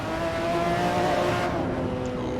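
A McLaren F1 GTR race car in the game Assetto Corsa holds a steady, loud engine note at high revs, its tone staying even with a slight lift near the end, and no one speaks.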